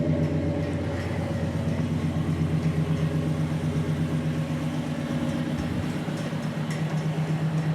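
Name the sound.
1967 Impala SS big block 396 engine running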